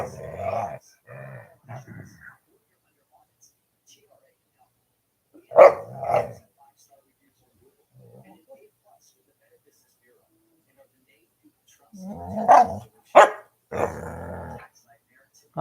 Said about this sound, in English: yawning and barking at the same time